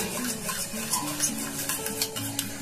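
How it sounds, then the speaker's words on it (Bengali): A fork stirs batter in a bowl, making close, rhythmic scraping and tapping clicks that repeat steadily throughout. "একটা কাঁটা চামচ নেবেন, কাঁটা চামচ খুব ভালোভাবে এটা গোলা যায়"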